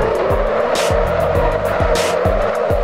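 A car drifting in the Assetto Corsa racing game: a loud engine revs up and down in repeated surges while the tires squeal steadily throughout.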